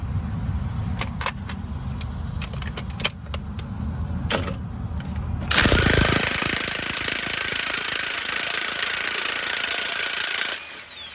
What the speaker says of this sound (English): I'm going to go ahead and try to loosen it up with an impact first